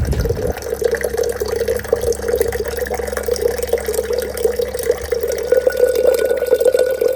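Tap water runs in a steady stream while tea is being made in a home kitchen, a continuous close rushing and filling sound with no talk.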